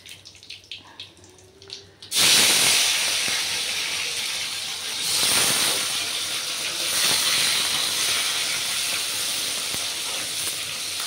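Dried red chillies and a freshly washed bay leaf hit hot oil, erupting into a loud, steady hiss and sputter that stays strong and continuous after a quiet start, with no talking.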